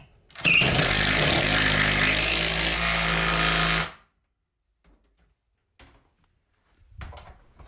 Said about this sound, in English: I was ready to anchor the frame to the studs using my impact driver